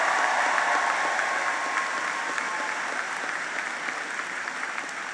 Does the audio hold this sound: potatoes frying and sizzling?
no